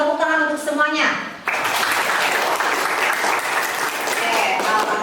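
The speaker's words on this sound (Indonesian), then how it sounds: "Tepuk tangan untuk semuanya" Students clapping together in a classroom, a dense, steady round of applause that starts abruptly after a teacher's voice and continues to the end.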